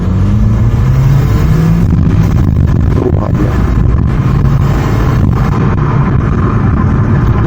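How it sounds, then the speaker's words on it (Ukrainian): A Volkswagen Golf 4 engine pulls hard at full throttle, a loud, steady mechanical roar with a rising drone heard close from inside the car, running unbroken throughout. "от роздупляємо до 2000 оборотів. Газ пол."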